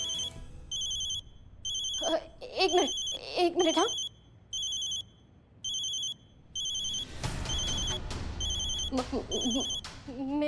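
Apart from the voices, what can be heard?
telephone ringing, mother's phone call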